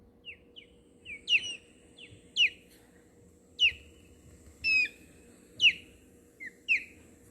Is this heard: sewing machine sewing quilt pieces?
no